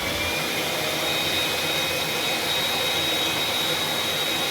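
A vacuum cleaner fitted with a brush attachment is run over indoor walls, giving a loud, steady whooshing roar with a thin whine on top that holds unbroken throughout, with no voices.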